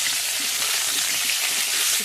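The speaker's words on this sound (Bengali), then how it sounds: "এবার আলুটা দিয়ে দেবো, আলুটা দিয়ে ভালো করে ভেজে নেব" Salted potato pieces for chicken curry fry in hot oil, a loud, dense, steady sizzle that holds constant at close range with no voices.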